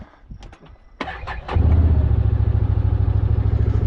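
A 2021 Can-Am Commander 1000R side-by-side engine starts: a few clicks and a brief cranking whir, then the engine catches and settles into a loud, steady, throbbing idle nearby.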